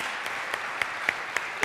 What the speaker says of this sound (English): Give the man a big round of applause.